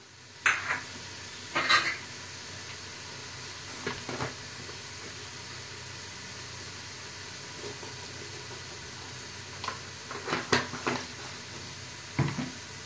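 Puffed rice chivda frying in a pan gives a low, quiet sizzle, with a few brief scraping clicks of a spoon stirring it scattered through the clip.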